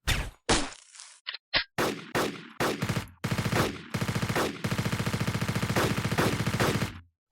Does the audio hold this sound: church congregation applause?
no